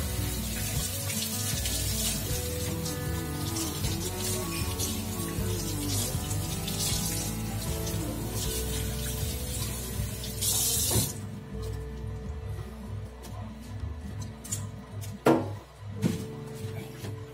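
Kitchen tap water running in a steady stream to rinse cleaned red mullet, a continuous close hiss and splash that thins and breaks into a few drips and clatters near the end.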